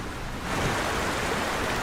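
Cartoon flood water rushes in a dense, steady roar of broadband noise, loud and unbroken for the whole short stretch, with no voices over it.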